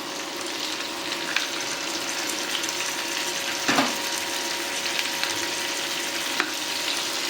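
Tomatoes frying with softened onion and mace for a restaurant-style butter chicken gravy, a steady close sizzle with a brief louder stir near the middle and faint scrapes.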